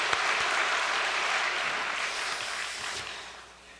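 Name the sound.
church congregation applauding the elders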